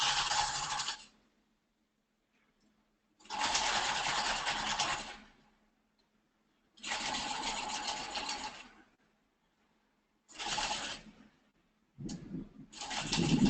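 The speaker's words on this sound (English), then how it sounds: "Now this is some thick sewing." A sewing machine stitches through a thick seam on a ballet bodice with piping, running in several loud bursts of a second or two each, separated by pauses, with no talk.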